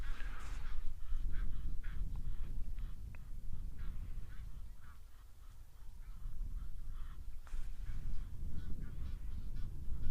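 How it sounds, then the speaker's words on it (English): Egyptian geese honk repeatedly at a distance, harsh calls rising and falling over a rumbling outdoor background. "You can hear the Egyptian geese in the background"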